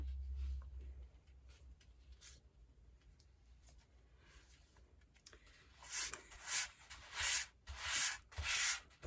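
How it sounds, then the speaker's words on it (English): A Chalk Couture stencil rubbed back and forth on a fuzzing mat, a soft dry scrubbing at first, then louder rhythmic strokes in the last few seconds, close up with no talking. "And then we are going to fuzz this on our fuzzing mat."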